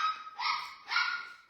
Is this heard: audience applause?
no